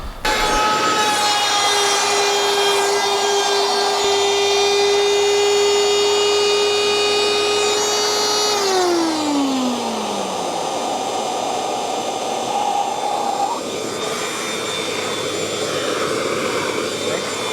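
A router cutting a groove in wood for a DIY scrapbook paper organizer gives a loud, continuous high-pitched whine close by, its pitch sliding down partway through as the bit bites and slows, then steadying into a sustained roar.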